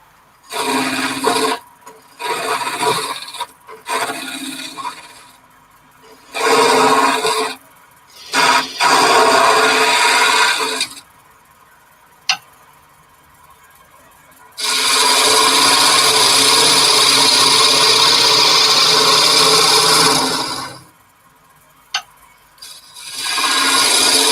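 A chisel works a piece of wood in repeated rasping scrapes, some short and some sustained for several seconds, loud and close, with brief quiet gaps between strokes.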